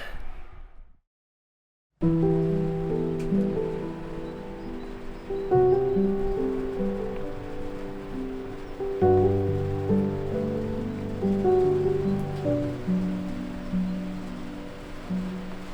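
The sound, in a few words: heavy rain pattering on a narrowboat roof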